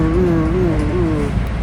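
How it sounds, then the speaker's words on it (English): Toronto Transit Commission Line 2 subway car with linear induction motors slowing down, a loud close electric whine that falls and steps down in pitch over a low rumbling ride. "And that sound is created by the linear induction motors that these cars have."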